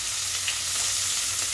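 Chopped onion and green chilli fry in oil for a Bengali fish chorchori, giving a steady close sizzle with faint stirring and no voices.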